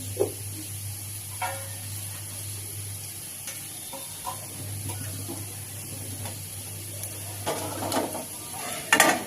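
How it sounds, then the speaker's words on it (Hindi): Steamed bitter gourds are lifted out of a pot on a switched-off gas stove into a vessel in a home kitchen. Occasional light clinks and scrapes of utensils sound close over a steady background hum, growing busier toward the end. "करेले को निकाल लेंगे एक बर्तन में।"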